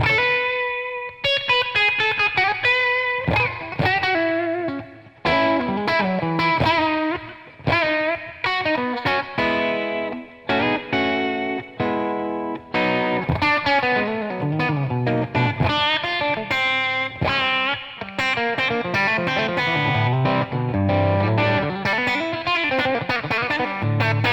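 Distorted PRS McCarty 594 electric guitar plays a busy, chord-heavy passage with effects, loud and continuous, with short pauses between phrases and no voices.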